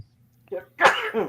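One person sneezes sharply and close by, after a short catch of breath. A small throat-clearing sound follows. No one speaks.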